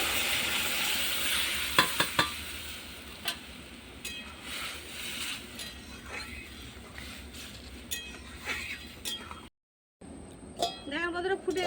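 Taro pieces tipped into chopped onion tempering and fried while being stirred in a pan: a steady close sizzle with scraping and light clinks of the spoon, a brief gap near the end, then fainter sizzling.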